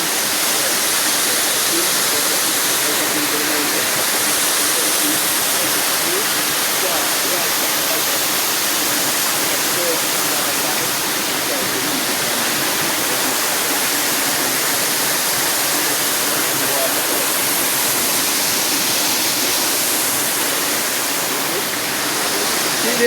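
A waterfall on the Champagne River in Saint Ann, Jamaica roars steadily and close, a dense unbroken rush of falling water that holds for the whole stretch with no voices.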